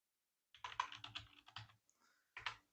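Close, quick typing on a computer keyboard as a route name is entered, a rapid run of clicks, a brief pause, then a final short burst of keystrokes.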